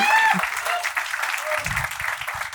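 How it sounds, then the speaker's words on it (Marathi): Audience at a Marathi comedy talk show bursts into steady, dense clapping that fills the whole stretch, with a few voices rising over it near the start. "एकदा जोरदार टाळ्या भाई"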